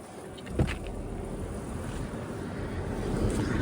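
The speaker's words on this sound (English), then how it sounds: "He said the AC blows ice cold" Steady broadband rush of a car's air conditioning blowing hard inside a used car at an Osaka car yard, a continuous airy whoosh with a brief knock early on and no voices.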